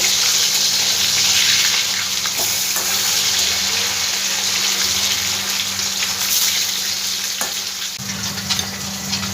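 Pieces of katla fish sizzle in hot oil in a wok, a dense, close frying hiss with a few stirring clatters and scrapes, going on unbroken without any voices.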